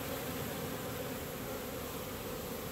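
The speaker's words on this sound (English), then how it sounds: "I put this together for the bees and they're at it" A steady, dense insect buzz of many honeybees at a winter feeder, close by and continuous, with no voices.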